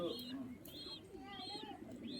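A breeding pair of Thomas-lineage pigeons in a loft coo softly, with about four faint repeated cooing calls spaced evenly over a quiet background.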